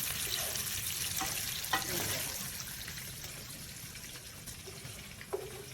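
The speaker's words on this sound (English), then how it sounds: "I'm just gonna move the sausage to the side. Just want a little brown." Pre-cooked sausage browning in oil in a pan for okra and tomato stew, a steady low sizzle with occasional light clicks of pieces being pushed aside, faint and continuous.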